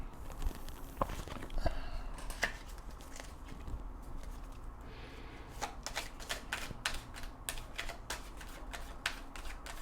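Oracle cards being shuffled by hand, a steady papery riffling and flicking close to the listener with soft taps, no talking over it.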